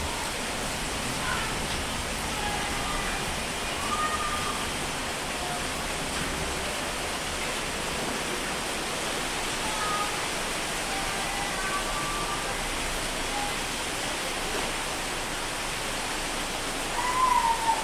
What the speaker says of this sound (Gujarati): જો કેટલો વરસાદ આમાં ટેરેસનું ભૂંગળું પાણી પડે